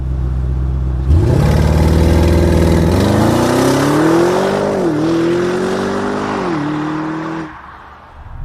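A 600 hp 2023 Audi RS Q8 accelerates hard, its loud engine note climbing in pitch through several gear changes with brief dips between shifts before easing off near the end.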